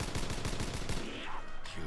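Rapid automatic gunfire in a Call of Duty custom zombies map, a fast rhythmic burst of shots that cuts off midway, followed by a brief trailing in-game sound.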